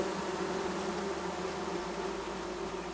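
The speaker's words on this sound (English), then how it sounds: "So you have to just keep running until the bees leave you alone." Bees swarm and buzz in the video game Among Trees, a steady, loud insect drone that holds from start to finish with no voices.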